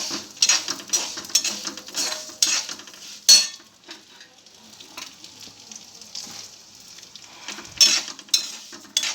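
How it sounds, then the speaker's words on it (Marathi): Vermicelli roasting in ghee in a pan, with repeated close scrapes and stirring strokes over a faint sizzle. Two sharp utensil knocks stand out amid quieter stretches. "आता शेवाळ्या घालायच्या मैत्रिणी ह्याच्यात आणि सोते करून घ्यायच्या म्हणजे भाजून घ्यायच्या"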